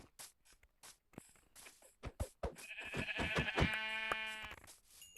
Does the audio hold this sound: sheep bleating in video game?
yes